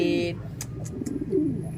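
Racing pigeons readying for a derby coo softly nearby, a couple of low, rolling calls with a few light clicks between them, while a voice is faintly present.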